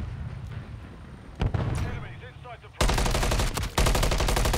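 Rapid automatic gunfire bursts from a Call of Duty multiplayer Hardpoint match on the Rio map, loud and sustained in the second half after scattered shots and game effects, with players talking over it.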